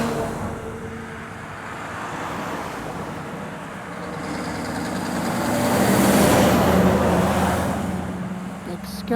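A big Scania truck hauling a load of Christmas trees rolls past on the A75, its engine and road noise swelling to a loud peak mid-pass before easing off, with no one talking.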